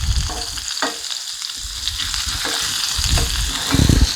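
Burger patties for a Frito cheeseburger sizzle loudly and steadily in a hot pan while being flipped, with a few brief scraping knocks from the spatula over the continuous frying hiss.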